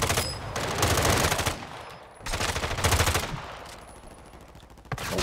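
Gunfire in Call of Duty: Warzone 2.0 rattles in sustained automatic bursts, loud and close, with a short pause between volleys and a final sharp crack at the end.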